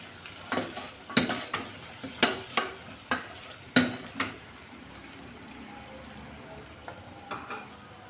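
A spoon stirs turmeric powder into a frying base for chickpea gravy, knocking and scraping against the pan in a run of sharp, close strokes over a soft, continuous sizzle, then easing to quieter frying.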